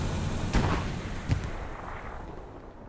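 A strafing run in the World War II shooter Hell Let Loose sets off two heavy booming impacts over a constant low roar of distant gunfire and battle noise.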